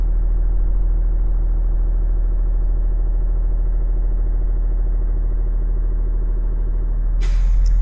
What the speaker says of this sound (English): whenever it does reach 125 PSI, we should hear a loud air popping sound or a sneeze type of sound